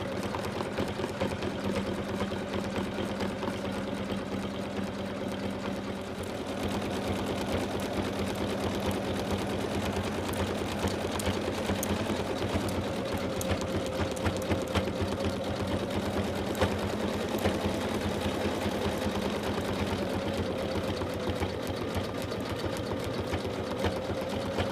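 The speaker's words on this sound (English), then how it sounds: "So now it's going to do the satin line around it" An embroidery machine stitches a satin line around a design on minky fabric, its needle chattering in a fast, steady rhythm over a constant motor hum that runs close and unbroken throughout, with no voices.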